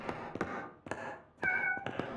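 A cat meows softly in a horror video game, two or three short quiet mews among light taps and footsteps.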